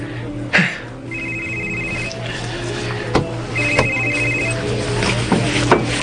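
A cellphone rings in repeated short bursts of electronic trilling, moderately loud and close, with occasional knocks and household clatter in between and no talking.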